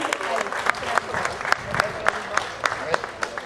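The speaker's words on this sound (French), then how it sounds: "je pense qu'on peut applaudir bien fort" An audience at a stadium opening ceremony for an athletics track in Le Moule claps steadily, a dense patter of many hands applauding together at moderate volume.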